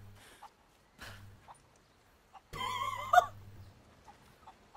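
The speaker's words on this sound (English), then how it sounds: "Catch chickens and throw them in the chicken pen!" Chickens clucking in the video game Rise of the Tomb Raider: scattered soft clucks, then a sudden loud burst of flustered squawking near the end, with quiet gaps between calls.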